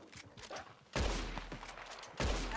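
Gunfire in the video game Red Dead Redemption 2: two loud bursts of shots, each with a heavy booming rumble that carries on, over quieter ambient game sound before them.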